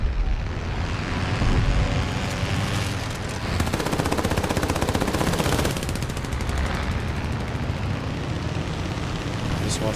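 The wing-mounted machine guns of a Ki-27 Otsu fighter fire sustained rapid bursts in the War Thunder video game, loud and rattling over a constant droning aircraft engine, heaviest in the middle stretch.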